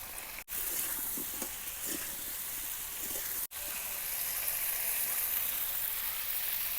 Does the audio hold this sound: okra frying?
yes